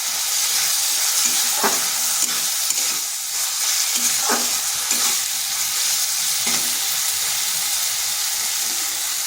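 Two green chillies sizzle in a pan with spice paste, a loud continuous frying hiss broken by several scraping stirs of a spatula at irregular intervals.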